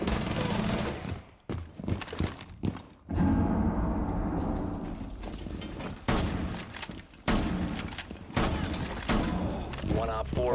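Gunfire in a Rainbow Six Siege round, a broken string of loud shots and short bursts with brief pauses between them, under voices talking now and then.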